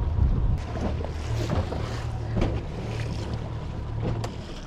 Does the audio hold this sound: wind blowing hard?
yes